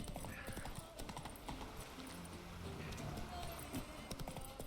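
Roach the horse gallops in the video game The Witcher 3, a steady, continuous clip-clop of hooves with no pauses, heard over loud game sound.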